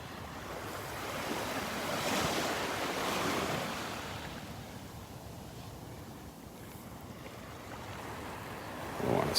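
Ocean waves wash onto Vanderbilt Beach in North Naples, Florida, a steady broad surf rumble swelling and easing with light wind noise on the microphone, close and fairly soft, with no voices.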